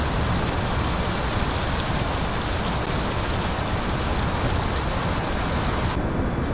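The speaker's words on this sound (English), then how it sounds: "Dang, this is some pretty bad rain." Heavy rain storm in Microsoft Flight Simulator pours as a dense, steady roar of rainfall, loud and unbroken throughout with no talking.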